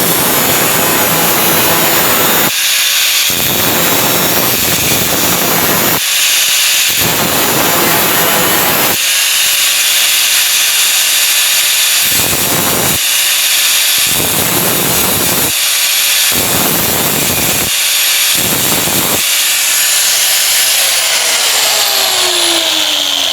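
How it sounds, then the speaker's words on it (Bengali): A bench grinder sharpens the second end of a handmade drill bit for woodworking, a loud steady high-pitched whine broken by repeated bursts of harsher grinding as the bit is pressed to the wheel. "এবার আমি অপর প্রান্তটা ধার দিয়ে দেখাচ্ছি"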